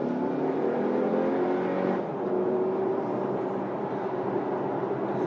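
A 2019 Audi Q3 or VW Tiguan accelerates at full throttle, a steady rising engine drone heard from inside the cabin, with a sharp gear change breaking the pitch about two seconds in before it climbs again.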